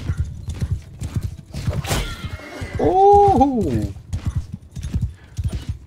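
Cavalry horses gallop in Mount & Blade 2: Bannerlord, with dense rapid hoofbeats close by, a loud neigh in the middle and a man exclaiming over the drumming hooves.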